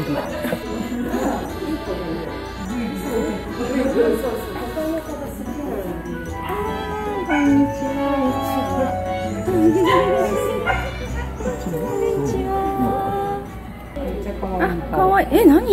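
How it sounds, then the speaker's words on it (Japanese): A dog visiting Ikeda Zoo in Okayama barks and yips repeatedly at close range. The barks are mixed with people talking and busy background noise throughout. "なんかめっちゃ普通にワンコがいる。"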